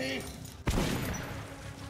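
A single loud, sharp shotgun blast in Metro 2033 Redux, close and punchy with a short rumbling tail, fired over someone talking.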